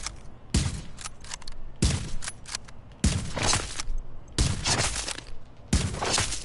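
Gunfire in The Division video game comes as five sharp, loud bursts of rapid shots, each separated by a short pause.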